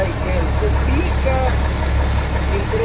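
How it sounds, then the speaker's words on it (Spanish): A heavy tractor engine drones steadily at idle during wheat threshing, close by, with a constant low rumble throughout. "Yo voy en el tractor, es la realidad"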